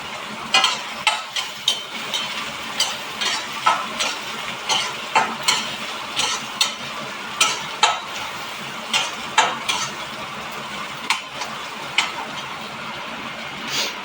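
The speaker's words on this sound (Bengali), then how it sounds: "পেঁয়াজটা এবার আমি একটু লাল লাল করে ভেজে নেব" Onions frying lightly in a pan, a continuous close sizzle punctuated by a regular series of sharp scraping stirs, one every second or so, with no talking.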